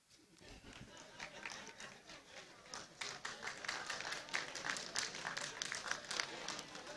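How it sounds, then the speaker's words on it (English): An audience at a town hall meeting on tax reforms breaks into scattered clapping that builds into fuller applause, heard at a moderate distance with some faint chatter. "I can hear the applause."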